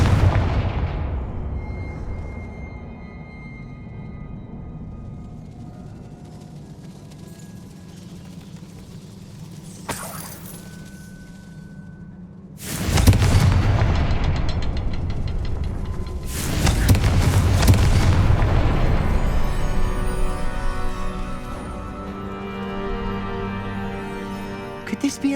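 Fiery blasting-spell explosions in the Hogwarts Legacy video game: two loud, broadband booms near 13 and 16 seconds, each rolling on for several seconds against a quieter game ambience, with a sharper crack around 10 seconds.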